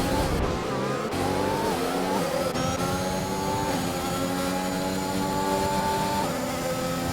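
Formula 1 race cars in a sim-racing game scream past at the Bahrain Grand Prix, a sustained high-pitched engine whine rising and falling through gear shifts, loud and continuous with no talk.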